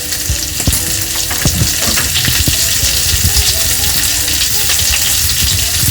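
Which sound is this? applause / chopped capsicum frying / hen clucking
chopped capsicum frying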